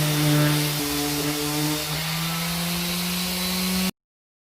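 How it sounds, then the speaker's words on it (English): A power sander whines steadily over wood parts being smoothed before assembling a router sled, its motor pitch shifting slightly, close and loud and alone until it cuts off abruptly near the end. "I'm going to give everything a quick sand down before I start assembling."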